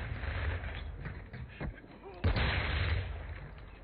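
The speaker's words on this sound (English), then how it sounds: "Mortar strike, get inside, guys. Mortar!" Mortar strike explosions in an online shooter game, rumbling low booms with one heavy blast near the middle amid gunfire, and a player's voice calling out over it.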